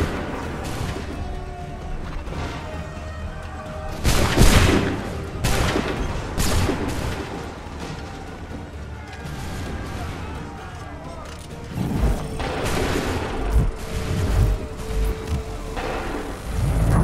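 A volley of musket fire and artillery in Assassin's Creed III booms out in several heavy clusters over a low battlefield din, loud and rolling, with bursts around the start, middle and end.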